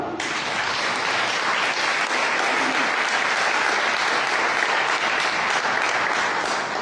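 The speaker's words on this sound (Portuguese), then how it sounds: "Vamos aplaudir o Senhor?" A church congregation applauds together in a dense, sustained burst of clapping that fills the room evenly for several seconds, loud and close with no pause.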